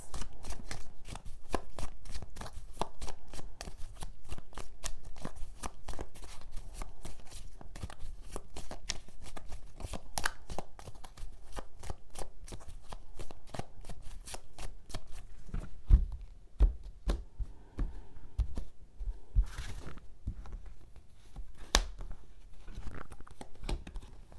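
Tarot cards are shuffled repeatedly for a 13-card draw, a close, rapid riffle of papery flicks and slaps running on continuously with brief pauses and a few louder taps.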